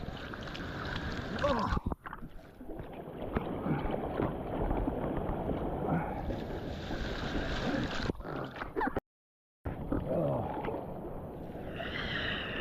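A small boat is paddled through water on a fishing trip, with sloshing splashes and gurgling strokes close to the microphone amid wind buffeting, and a brief dropout partway through.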